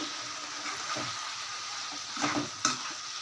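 Tamarind water poured into a pan of simmering vegetables, a steady bubbling sizzle with brief splashy surges and a light clink of a vessel, no voices.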